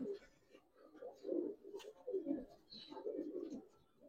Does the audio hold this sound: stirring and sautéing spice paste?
no